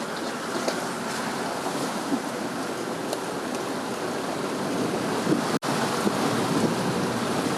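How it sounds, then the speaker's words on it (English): River water rushes in a constant, dense wash during a 4WD crossing on Crooked River Track near Talbotville in the Victorian High Country, steady and fairly close with a single momentary dropout and no voices. "Third river crossing across Crooked River Track out of Talbotville."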